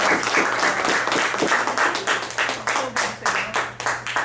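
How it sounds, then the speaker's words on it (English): Applause from an audience at a panel talk for two guest speakers, a dense sustained patter of many hands clapping that thins slightly toward the end, with a low steady hum underneath. "can we give a round of applause to Melissa and Kimberly?"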